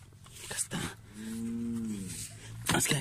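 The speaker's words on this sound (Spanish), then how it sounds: "Es que aquí andan adelantito las vacas, andan maullando." A cow in rural brushland lets out a single long, low moo lasting about a second, fairly close, framed by rustling and handling noises before and after.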